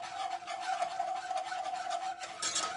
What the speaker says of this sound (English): I'm going to just dissolve that in there pretty much with my whisk here. Stir it up a little bit.